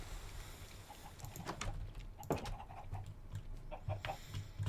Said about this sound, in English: Hey there, chickens.